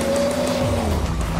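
An Audi RS6 with a 5-litre V10 engine accelerates hard, its engine note climbing in pitch under a steady roar, close and loud.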